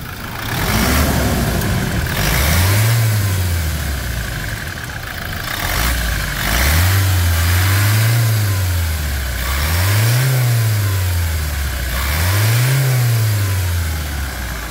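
A Toyota Hilux diesel pickup engine revs up repeatedly, rising and falling in pitch about four times between steady idling, loud and close with no talking.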